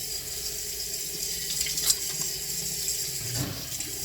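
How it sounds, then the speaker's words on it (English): A bathroom sink tap runs steadily as the water waits to warm up, a soft continuous splashing stream close by, with a few small clatters and no talk. "just waiting for the water to get warm."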